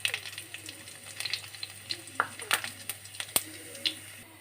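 Cumin seeds crackle and sizzle in a couple of spoonfuls of hot oil, with sharp irregular pops and spits over a steady frying hiss, close and moderately loud.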